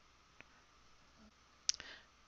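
A couple of quiet computer mouse clicks on a desktop, one faint tick followed by a sharper click near the end, close to the mic over low background hiss.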